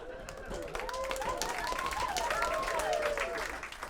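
Audience at a stand-up comedy show clapping and reacting, a steady wash of applause mixed with voices, fairly faint and continuous throughout.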